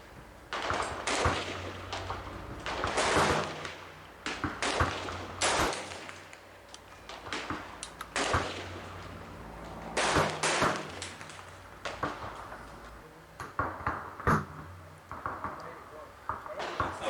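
M1A rifle fired with iron sights at long-range targets out to 600 yards, sharp reports repeating at irregular intervals across an outdoor range amid other distant shots and a continuous background rumble, with a voice talking between.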